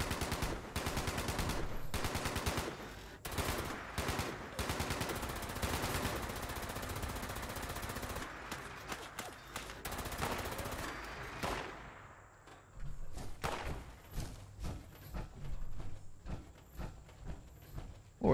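Super mutants fire at the player in the video game Fallout 76: dense, loud bursts of rapid automatic gunfire with scattered single shots, then a thinner run of separate cracks and thuds near the end.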